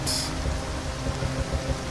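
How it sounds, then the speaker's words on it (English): Steady rain in modded Skyrim hisses loudly and evenly throughout, a dense wash of falling water with faint low rumbles beneath. "The rain's pretty loud. Let me just change up that rain sound a little bit."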